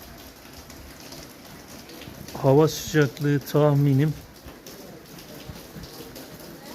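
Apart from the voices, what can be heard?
rain falling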